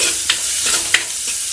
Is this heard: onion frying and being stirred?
yes